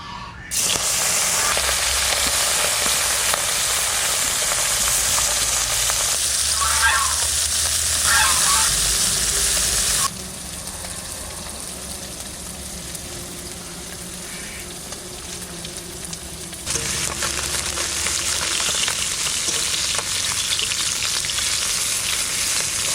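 Fish frying in mustard oil in a pan, a steady loud sizzle that runs continuously with no talk, shifting slightly in intensity partway through.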